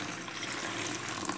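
Cold water is poured into caustic soda to make lye for coconut bar soap, giving a soft, steady splashing trickle, close and fairly quiet, with no voices.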